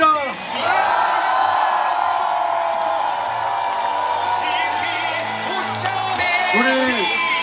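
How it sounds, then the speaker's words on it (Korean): Crowd at an outdoor election campaign rally in Chungju cheers and applauds loudly and continuously, with whoops and shouts over sustained clapping; amplified tonal sounds and voices run through it. "큰 박수와 함성"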